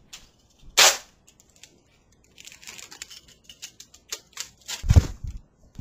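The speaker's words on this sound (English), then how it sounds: "So I'm actually like taping my microphone to my lamp." Tape is pulled and torn off a roll, then crinkled and pressed while a microphone is fixed to a lamp. One sharp rip is followed by a burst of close, scratchy crackling rustles.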